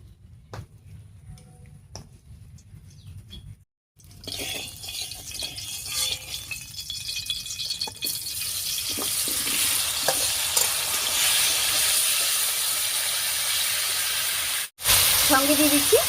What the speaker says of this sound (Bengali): এবারে কড়াইয়ে সরষের তেল দিয়ে কারকলটা ভেজে নিচ্ছি।